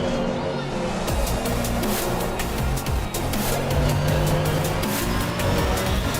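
Race car engine of an AMG in a VR racing game, a steady loud drone with shifting pitch as it takes a curve, some tire noise, running continuously throughout.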